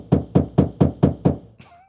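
Knocking from plastering work in the house next door: six evenly spaced, dull thuds in a steady rhythm, heard through a wall at moderate loudness, followed by a brief faint squeak.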